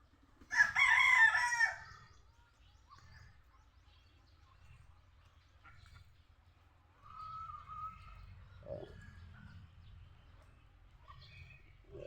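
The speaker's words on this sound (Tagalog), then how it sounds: "Ayan yung barako natin mga kapatu." A rooster crows once, loud and close, at the start. Faint farmyard clucks and quiet background noise follow.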